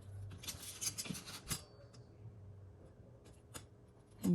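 A pencil marks a line on paper while working on a large Trapper Keeper craft, giving a few faint, short scratchy strokes near the start, followed by quiet pauses and a soft tap.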